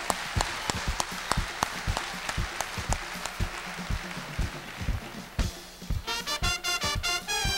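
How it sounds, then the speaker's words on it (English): Audience clapping for contestants at a 1994 world calypso monarch awards night, sharp hand claps dense and steady at first, then thinning to a few separate claps over a pitched tonal sound near the end. "Give the contestants a round of applause."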